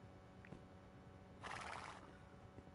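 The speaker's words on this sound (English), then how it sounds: "I hear a horse." A horse whinnies once in the survival video game Rust while the player is in a cave, a brief burst in the middle of the clip over a steady low ambient hum, fairly faint and distant.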